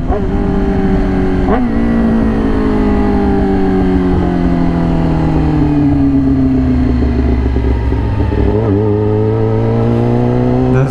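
Yamaha R6 sport motorcycle with an extremely loud aftermarket exhaust, heard on the ride as a steady close engine roar whose pitch climbs through the gears and dips at each shift, with no speech.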